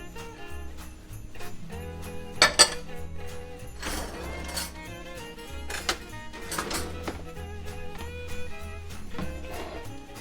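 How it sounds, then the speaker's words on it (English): Jalapeno bacon cheese ball ingredients with chopped nuts, jalapenos and bacon being mixed in a bowl, giving scattered clinks and scraping knocks of a utensil against the bowl, with a few sharper taps, close and moderately loud. "We're going to mix this together, mix it up."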